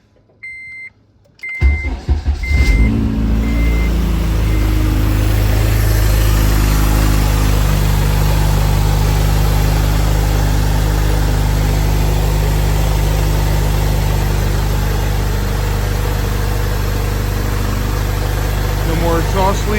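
An eighth-generation Honda Civic Si engine cranks and catches after gasket replacement, then settles into a loud, steady idle with an exhaust leak that rumbles on without pause; a few short beeps sound at the start.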